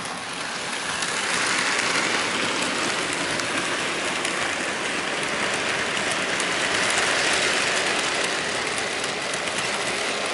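A Bachmann LMS 6106 HO-scale model steam locomotive hauling a long goods train, giving a steady close whirring and clattering rumble of wheels on track that holds even throughout.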